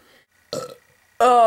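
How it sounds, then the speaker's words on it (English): A loud, drawn-out human belch comes in at the end, after a short throaty sound earlier, with near silence between. "I'm waiting till I need a belch."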